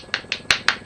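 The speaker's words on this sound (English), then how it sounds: "I would clap. Actually, I'll clap." A handful of crisp, close claps, about five in under a second, in a quick, slightly uneven rhythm.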